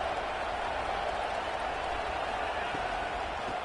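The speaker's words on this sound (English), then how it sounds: "this home crowd is fired up and ready to make a difference today" A home football crowd at a Conference USA championship game against Delaware keeps up a steady, dense roar of cheering and applause throughout, broad and even with no gaps, heard from within the stadium.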